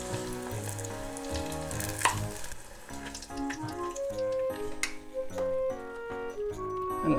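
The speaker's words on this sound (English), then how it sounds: "So you want to make sure that you're frying both sides good." Shiitake mushroom tempura fries in hot oil in a Japanese home kitchen, a soft, steady crackling sizzle heard close up, though largely buried under background music.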